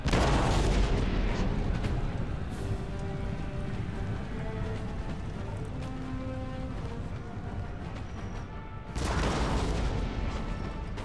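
Artillery fire in Empire: Total War during a French and Indian War battle: heavy booms at the start and again near the end, with rumbling battle noise and faint tonal game sounds between them.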